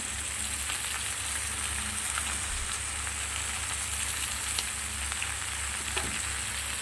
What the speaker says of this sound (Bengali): বন্ধুরা শুক্তোর সবজি টবজি সব ভালো করে ভাজা হয়ে গেছে